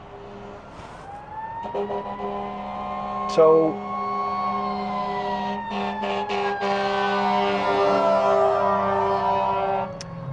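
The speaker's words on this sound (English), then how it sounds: "I have a fire truck coming behind me." A fire truck siren wails from behind a car as the engine passes on a snowy Christmas Eve, its rising and falling tones sweeping steadily over road rumble, with a brief voice near the start.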